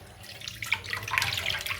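Tap water runs close by, splashing and rattling as a mixer grinder jar is rinsed in a sink, a short continuous wash with small drips and knocks.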